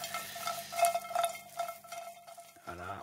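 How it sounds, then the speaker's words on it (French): Croutons tossed and stirred in a frying pan while making a red kuri squash velouté, giving a steady close sizzle with light scraping and clinks, briefly interrupted near the end by a low hum. "Bien sauter les croûtons, on les fait bien tourner voilà, sur eux-mêmes"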